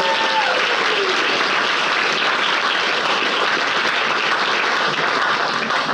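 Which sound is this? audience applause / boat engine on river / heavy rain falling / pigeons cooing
audience applause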